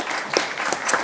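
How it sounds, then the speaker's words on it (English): Applause fills a short stretch at a regular school board meeting, a dense, steady crowd clapping that fades into the room's reverb. It is moderately loud and close, with no one speaking over it. "Let's give them a round of applause."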